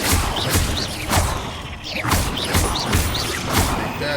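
Confringo fire spell cast in Hogwarts Legacy inside a spider cave, a series of punchy whooshing blasts with thudding impacts repeating about every half second, loud and close, with no talking over it.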